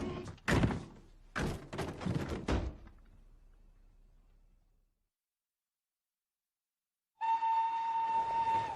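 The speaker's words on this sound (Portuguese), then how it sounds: "Próximo trem para Londres." A train at a station: a few heavy thunks and clatter at the start fade into silence, then a steady loud horn-like tone or carriage hum begins near the end.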